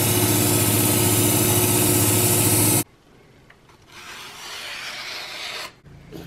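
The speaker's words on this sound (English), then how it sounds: "every time you grind it, you're taking metal off" Work Sharp Ken Onion Edition powered belt sharpener grinding a kitchen knife, a loud steady motor-and-belt rasp that cuts off abruptly near three seconds, followed by quieter handling noise and a brief scraping swell.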